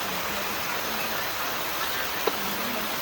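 Steady rain hisses evenly over a campsite shelter dome, a constant close downpour with a faint tap partway through.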